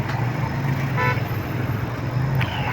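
Busy street traffic at Landi Kotal Chowrangi in Federal B Area, Karachi, Pakistan, with a steady engine drone and road rumble. A short car-horn toot stands out about a third of the way in.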